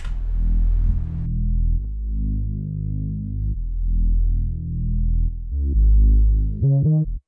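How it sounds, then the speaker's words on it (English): A deep synthesized bass plays sustained low notes that shift in pitch, ending with short stabbing hits; no voices. "just a one-shot bass. Sounds like this."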